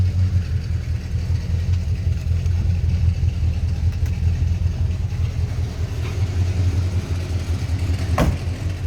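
A 1964 Pontiac LeMans 389 V8 idles in neutral with a steady, deep, throaty low rumble, close and continuous, with one faint click near the end.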